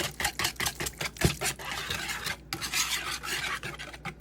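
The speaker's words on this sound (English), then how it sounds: "we're going to whisk this together" Whisk scraping and rasping through a bowl of combined wet and dry ingredients, including oil, for five spice chicken, with steady rhythmic strokes close by and no talk.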